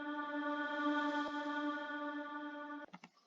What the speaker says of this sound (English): the reverb tail that I just made by